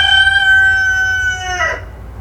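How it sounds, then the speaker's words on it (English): A rooster crows once, a loud drawn-out cock-a-doodle-doo close by that rises and then breaks off abruptly at the end. "He's my rooster."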